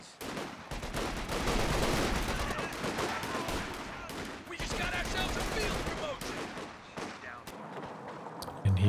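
Machine gun fire in a Company of Heroes 2 battle: dense, rattling bursts and scattered shots over continuous battlefield noise, steady and fairly close throughout.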